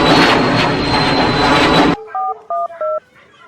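A comedy-style aeroplane flyby effect roars loudly for about two seconds, then cuts abruptly to a short series of electronic beeping tones like a phone dialing.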